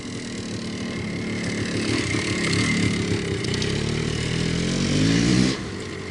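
A 1983 Yamaha IT490K two-stroke dirt bike struggles for traction on frozen ground, its engine droning and revving up to a loud peak before cutting off, heard close with no voices.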